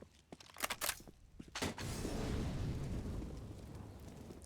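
A flashbang grenade goes off in a Source engine game map: a few sharp pops and thuds, then a sustained loud noisy roar that slowly fades, heard close with no talking.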